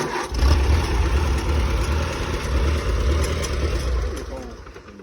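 Farmall Super A tractor engine running after a push start, a steady low rumbling idle that stays loud and continuous throughout, with an old engine that is smoking.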